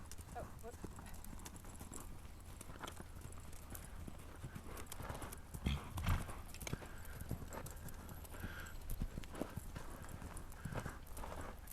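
Hooves of a ridden horse clip-clop in a steady gait during a riding lesson, moderately close under a person's talking, with the rhythmic hoofbeats running throughout.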